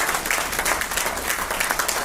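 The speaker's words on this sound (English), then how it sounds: "Ruben Walker, please a round of applause for" Audience at an anniversary lecture gives steady applause for a speaker, a continuous wash of many hands clapping at even loudness throughout, no voices over it.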